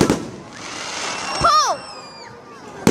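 Fireworks fired at seagulls outdoors: a sharp bang opens and closes the stretch, with a whistling, rising-and-falling screech in between, all under people's voices and cheers.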